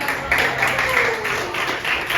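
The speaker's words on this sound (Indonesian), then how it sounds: "Boleh tepuk tangan dulu." Classroom applause for student group A during a chemistry lesson, a steady patter of many hands clapping at once, moderately loud and continuous with a few voices mixed in.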